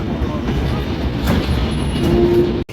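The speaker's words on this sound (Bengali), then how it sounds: "রাজশাহী ছাড়ার পরে ট্রেনটি প্রথম স্টপেজ দিচ্ছে সরডহ রোডে" The Padma Express intercity train runs out of Rajshahi with a loud, close, continuous rumble of wheels and carriage. A brief high tone sounds near the end.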